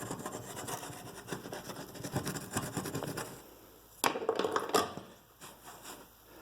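A scraper rasps and rubs leftover glue off the front cap of a wrecked Monaco RV motorhome, with repeated close scraping strokes, a quieter pause, then a few sharper scrapes.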